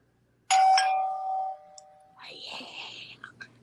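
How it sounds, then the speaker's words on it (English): A bright bell strikes once and rings out with a sustained tone that fades over about a second, followed by a softer, lower chime and faint talk-like murmurs. "let's get a bell."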